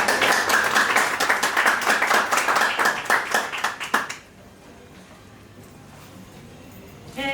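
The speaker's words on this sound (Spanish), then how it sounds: "Un aplauso, por favor." Audience at a panel discussion on personal data clapping in a steady, fairly loud round of applause that stops abruptly partway through, leaving quiet room tone with a faint sound at the very end.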